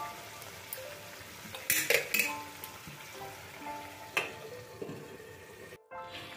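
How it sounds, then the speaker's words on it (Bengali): Chicken fries in a pan over a medium flame, a soft steady sizzle with occasional metallic clanks and scrapes, as a lid is set on the pan, then a brief silence. "2 মিনিট হাই ফ্লেমে কষানোর পর এবার আমি ফ্লেমটা মিডিয়াম করে দিচ্ছি, আর এটাকে এখন আমি একটু ঢাকা দিয়ে কষাবো।"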